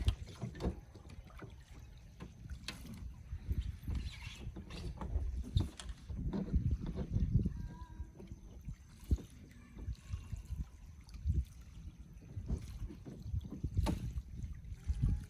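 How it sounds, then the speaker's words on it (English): A kayak out on Lake Guntersville at a quiet campground, with faint, uneven water dribbles and low paddle swishes rising and falling, heard from a short distance with no talking. "This is his first trip out in this kayak."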